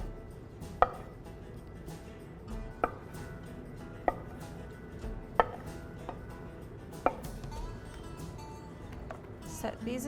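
A knife chops kielbasa sausage into corn-sized pieces on a board, giving several sharp, evenly spaced knocks close by while a person talks over the cutting.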